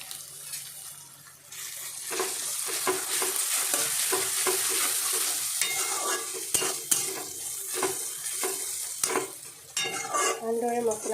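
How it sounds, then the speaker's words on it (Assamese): Spice masala with cumin sizzles steadily in a pan over a low flame for a broiler chicken curry with bottle gourd and taro, with clattering spoon strokes and scraping stirs throughout and no talking. "ভালদৰে মছলাখিনি মই ভাজি ল'ম"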